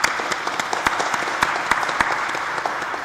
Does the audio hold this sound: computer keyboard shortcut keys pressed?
no